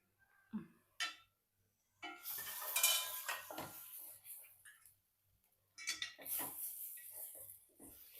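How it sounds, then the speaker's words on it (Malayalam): A spoon stirs chili, turmeric and garam masala into egg roast in a pan, giving scraping and clinking strokes in short bursts with soft sizzling, while a person talks between them. "അപ്പൊ അതെല്ലാം കൂടെ നമുക്ക് ഇട്ട് കൊടുത്തിട്ട് ഇളക്കിയെടുക്കാം"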